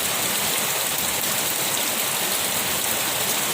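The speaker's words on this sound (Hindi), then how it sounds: "अभी हो रहा है बहुत जोरों से बारिश" Heavy rain pours down in a dense, unbroken hiss, loud and close, with no gaps and no talking.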